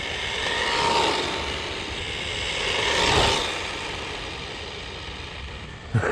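A UDIRC UD1201 RC car on its stock 2S 2000 mAh lithium-ion battery runs its electric motor at full throttle, giving a steady whining drone that swells and fades twice as it passes, ending in a brief knock.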